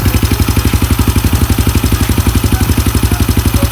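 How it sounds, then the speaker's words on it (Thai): A rebuilt car engine with an uncleaned, untuned carburetor idles close up, its steady rapid pulsing chug loud and even with no talk over it. "มาฟังกันเลย นี่เครื่องก็เงียบเลยนะครับ"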